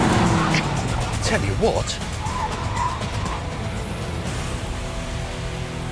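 An old car and a new car launch side by side in a drag race, one a torquey diesel. Engines roar close by and tires squeal briefly near the start, while someone talks over the noise.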